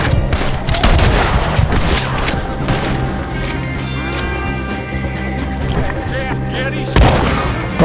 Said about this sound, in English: where's the bullets? Where's the shooting coming from?